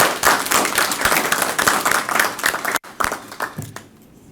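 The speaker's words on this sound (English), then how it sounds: "Let's give her a round of applause," Audience applause at a debate competition, a dense burst of hand clapping that fills the room, fairly loud and close, then thins out and fades near the end.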